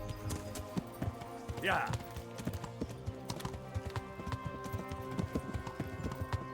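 Hooves clip-clop in a fast galloping rhythm from horses ridden in the game Kingdom Come: Deliverance, with a whinny midway and a brief spoken word over the steady beat.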